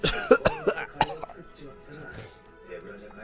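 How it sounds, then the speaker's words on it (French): A smoker trying to quit gives a few sharp, harsh coughs in quick succession up close, then they fade into quieter background noise. "depuis que j'arrête de fumer le matin, j'arrête pas de tousser"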